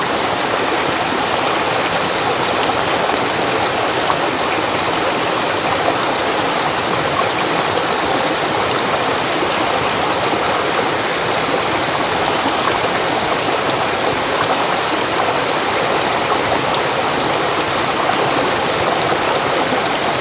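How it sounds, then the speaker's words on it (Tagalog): Steady broadband rush of water splashing and churning as laundry is rinsed and beaten outdoors in a forest setting, continuous and fairly loud for the whole stretch, with no talk over it. "Banlawan na niya sa tubig, tapos ihampas-hampas"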